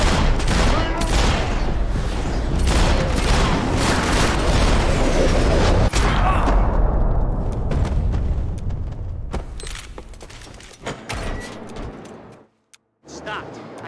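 Heavy gunfire in Max Payne 3, a dense loud fusillade of rapid shots and booms that thins into scattered bursts before a brief silence near the end, with shouted voices mixed in.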